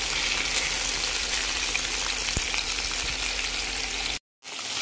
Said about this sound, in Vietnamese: Dầu nóng mình đi chiên cá.